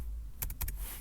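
A few quick keystrokes on a computer keyboard while working in Word, four close clicks in rapid succession over a low background hum.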